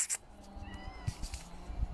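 A house cat lets out a short meow, with a few brief mewing sounds over a noisy indoor background and no talking.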